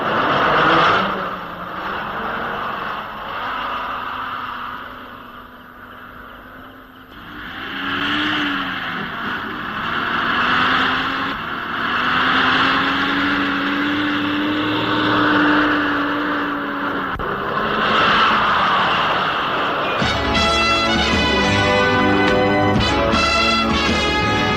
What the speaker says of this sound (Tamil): வண்டி பின்னாடி எடு, வேற வழியா போயிடலாம்.